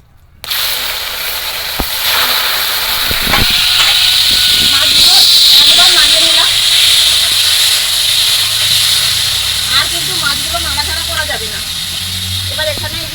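Fish frying in hot oil with panch phoron and two dried red chillies in a Bengali home kitchen: a loud steady sizzling hiss swells as the fish goes in, with spoon clinks and scraping underneath.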